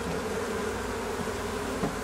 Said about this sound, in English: That's a lot of happy bees.